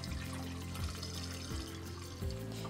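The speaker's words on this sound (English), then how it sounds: "Take my funnel, I'm gonna pour it in." Hot water pours through a funnel into an AquaCure AC50 machine, a steady gurgling flow with a few rising glugs as the vessel fills.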